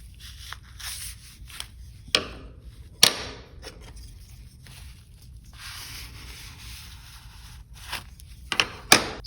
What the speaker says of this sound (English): So now I'll just go ahead and remove that grease.